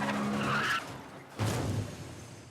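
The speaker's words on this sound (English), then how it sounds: "we see the entire car chase we just saw from a new perspective" Tires skid and squeal during a car chase in the film Tenet, two loud bursts separated by a brief lull, with engine noise under the screeching.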